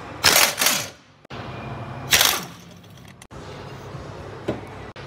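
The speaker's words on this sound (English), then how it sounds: "Let's take off the caliper bracket." A brake caliper bracket comes off a car wheel during a broken wheel stud repair. Sharp metallic ratcheting bursts from a tool come at the start and again midway, with quieter clicking and handling noise between them and one small clack near the end.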